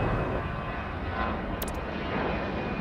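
A plane takes off in the Airport Madness video game, a steady, dense engine roar at constant loudness with a brief high chime near the middle.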